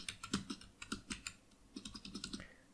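Quick bursts of keystrokes clatter on a computer keyboard at close range, two short runs separated by a brief pause, with no talking.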